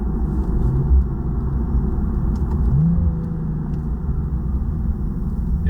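Nissan 370Z Nismo engine in manual mode, a steady mid-pitched exhaust drone from inside the car with a couple of brief rev swells, and no talking.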